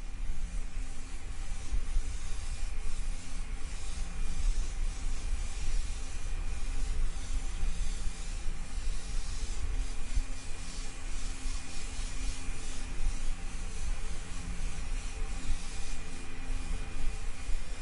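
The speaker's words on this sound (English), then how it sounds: "I'm keeping the airbrush well back, working quite fast and just getting a nice overall dusted look" An airbrush sprays transparent root beer paint onto a car body, a steady, even hiss of air and atomised paint that runs continuously at moderate level with no talk.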